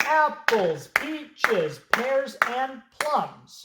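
In a classroom rhythm lesson, hands clap a steady pattern of six sharp claps, each landing together with a voice chanting a syllable, close and clear.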